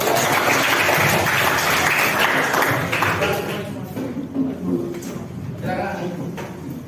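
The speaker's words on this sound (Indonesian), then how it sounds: "kita berikan tepuk tangan." Classroom clapping for a student group coming forward to present, a brisk round of hands that fades after a few seconds, with voices and classroom chatter rising as it dies down.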